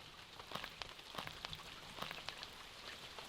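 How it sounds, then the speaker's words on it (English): Rain falling in the survival game Dinosystem, with scattered drops tapping on surfaces over a steady soft hiss, fairly quiet and without voices. "and I guess we got some rain on the way."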